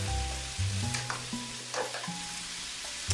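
Four angled beans stir-fry in a hot pan with a steady close sizzle, broken by the scrape and toss of stirring.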